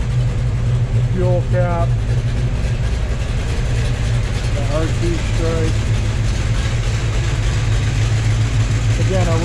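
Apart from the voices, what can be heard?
1971 Dodge Challenger R/T 440 engine idling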